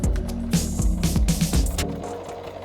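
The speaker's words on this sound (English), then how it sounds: "What you gotta do now is start stitching." Sewing machine stitching old denim jeans into a skirt, with a quick rhythmic mechanical chatter in short bursts and brief pauses, loud and close.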